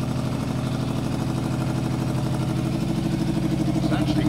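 A Yamaha Fazer 600 motorcycle engine idles with the idle backed off slightly, a steady, loud, even throb that runs unbroken throughout, close up and without talk.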